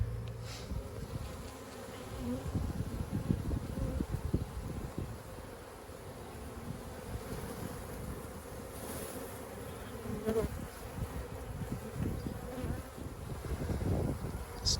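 A honeybee swarm buzzes densely at the entrance of a hive box in a home beeyard, a steady close hum of many bees with occasional louder fly-bys, no voices.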